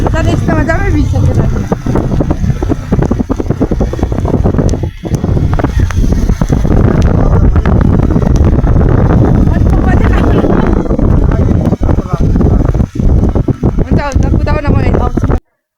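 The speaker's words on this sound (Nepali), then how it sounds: "हावाले गर्दा मैले बोलेको केही सुनेको थिएन रहेछ" Strong wind pounds the microphone during a rainy outdoor motorbike trip toward Kalapani, a loud, continuous rumbling roar with a voice talking through it, cutting off abruptly at the end.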